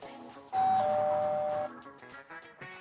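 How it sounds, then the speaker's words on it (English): A doorbell chimes once, a bright sustained ding ringing out loud and clear, then fading into quiet background. "Try one more doorbell ring."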